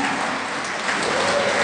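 Applause from a church congregation praising Jesus for a woman's testimony, a steady dense wash of clapping held at an even level throughout.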